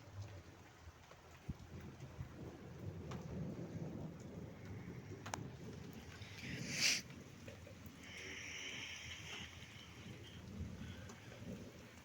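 Heavy rain pours steadily on surfaces outdoors, with a low rumble of thunder rolling underneath and a brief sharper crack midway, no talk.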